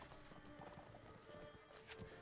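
A horse in a video game trots with steady clip-clop hoofbeats and occasional snorting, heard faintly under game ambience and background noise.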